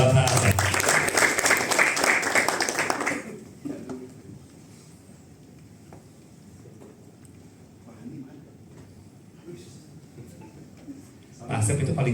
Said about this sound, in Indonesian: Berikan tepuk tangan buat Bapak Asep.